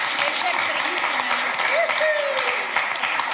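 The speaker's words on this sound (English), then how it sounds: "Please, a warm applause for Doriana." Warm applause from a conference audience greeting a delegate named Doriana, a dense steady patter of clapping hands filling the room throughout, with faint voices audible beneath it.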